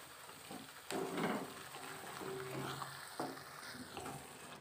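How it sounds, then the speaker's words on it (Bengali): Coriander leaves being stirred and cooked into a chicken curry in a pan, giving a soft, steady sizzle with a few scraping strokes of a spoon, close and fairly quiet with no talking. "ধনে পাতাটা দিয়ে ভালো করে একটু নেড়ে চেড়ে দু তিন মিনিটের মতন রান্না করে নিতে হবে।"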